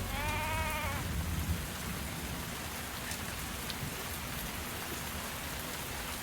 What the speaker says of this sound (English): A nice, gloomy, rainy day.